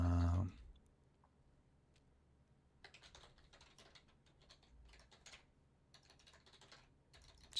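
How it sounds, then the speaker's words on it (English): Rapid, irregular keyboard clicks from typing on a computer keyboard, close and fairly quiet, coming in busy bursts after a brief louder thump at the start, with no talking. "I'm having a hard time typing tonight"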